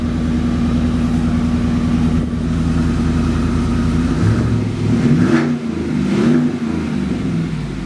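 GMC Silverado truck engine running with the hood open, a loud steady idle rumble close by that swells slightly with a couple of revs near the end.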